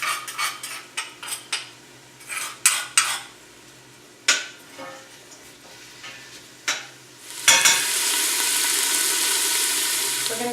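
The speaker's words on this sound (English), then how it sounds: "I'm going to saute the onion. I'm going to add a large clove of garlic with some salt" Onion and garlic with salt hit a hot pan for a vegan peanut soup: sharp utensil clinks and stirring scrapes come first, then a loud, steady sizzle takes over for the last few seconds.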